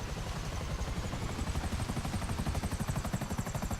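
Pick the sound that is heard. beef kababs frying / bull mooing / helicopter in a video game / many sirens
helicopter in a video game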